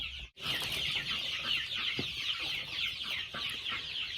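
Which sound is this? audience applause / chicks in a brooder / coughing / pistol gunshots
chicks in a brooder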